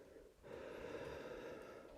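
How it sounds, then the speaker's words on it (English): A long, deep inhale during a yoga class, a soft steady rush of breath drawn in close to the microphone after a brief quiet start, with no voices. "breathing in"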